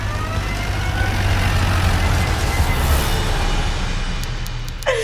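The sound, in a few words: car driving fast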